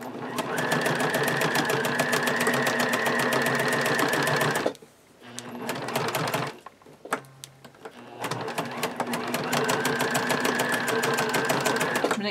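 A sewing machine stitches elastic onto a planner pencil bag in fast, even bursts of rapid needle strokes, stopping briefly twice before running again, close and loud.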